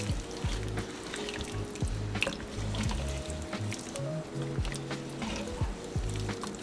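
Diced whole onion being stirred into a pot of green beans, giving steady wet squelching and slurping with repeated spoon scrapes and low knocks against the pot, close and continuous.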